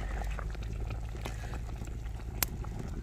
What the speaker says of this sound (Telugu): ఆల్మోస్ట్ మన చేపల కూర ఉడికిపోయినట్టే